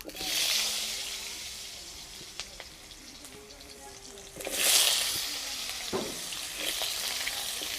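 Potatoes fried in mustard oil in a hot wok give a soft, continuous sizzle and hiss that swells sharply about midway, close by, with no clear speech.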